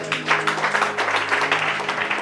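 A church congregation applauds steadily and loudly at a Bible study teaching, a dense wash of many hands clapping together with little variation in rhythm.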